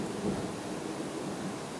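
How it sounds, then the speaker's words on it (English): Distant thunder rumbles steadily in Florida ahead of rain, a continuous low roll with a broad hiss above it and no talk. "was thunder. It's about to rain."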